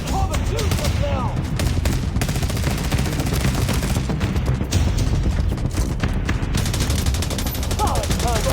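Heavy sustained gunfire in the mobile video game The Division Resurgence: dense rapid automatic bursts and overlapping shots fill the whole stretch, loud and continuous, with shouted voices briefly cutting in.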